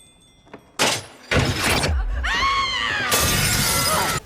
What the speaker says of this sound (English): maybe he just shatters it into a million pieces